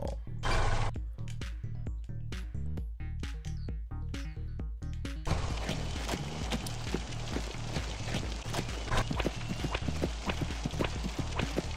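Rapid clip-clop of horse hooves in a video game, a steady rhythmic patter of hoofbeats that runs throughout, loud and close, with denser clattering in the second half.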